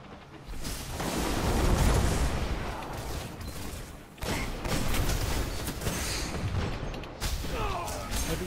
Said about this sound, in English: Heavy ammo inbound.